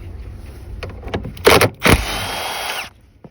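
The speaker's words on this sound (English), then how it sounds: "You will need a ratchet or a type of socket to remove these." Removing the 14mm seat bolts on a 2009–2015 Honda Pilot with a ratchet. Two loud whirring bursts come close together, then a longer, quieter run winds down and a few faint clicks follow.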